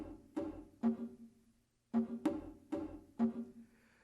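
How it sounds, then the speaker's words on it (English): Conga drums struck by hand in short groups of resonant, booming hits with a pause partway through, close and fairly quiet with no talking. "That's the sound of the conga drum."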